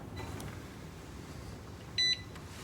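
A Presto Precise digital pressure canner sounds a short, clear electronic beep as its timer finishes, standing alone over quiet room hiss.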